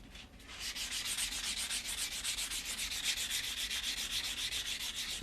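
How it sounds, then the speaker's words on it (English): Steady rhythmic rasping of sandpaper worked back and forth across the cut edge of a silver coin ring, close and continuous with regular strokes for the whole stretch, no talking. "One thing I haven't done with this ring is sand this cut edge."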